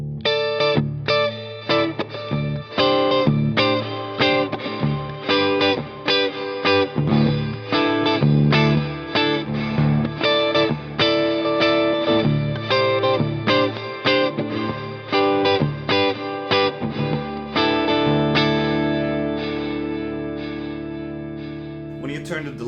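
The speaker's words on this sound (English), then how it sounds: "this has some reverb, some plate reverb added to the repeats" Electric guitar played through an Electro-Harmonix Canyon delay pedal on a setting with plate reverb added to the repeats, steady strummed chords echoing and smearing into a washy tail that fades alone at the end.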